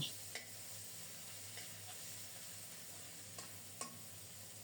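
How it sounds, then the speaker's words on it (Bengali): Prawns coated in salt and turmeric frying in a little oil, a faint steady sizzle with a few soft utensil taps, low and continuous. "চিংড়ি মাছে লবণ হলুদ মাখিয়ে তেলে ছেড়ে দিলাম অল্প তেলেই ভেজে নিচ্ছি"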